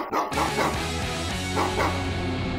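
A dog in a video game gives a quick series of yapping barks and whimpers, close and fairly loud over a dense game soundtrack.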